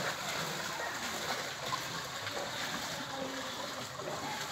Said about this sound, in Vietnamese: khỏa chân lên cho nó sóng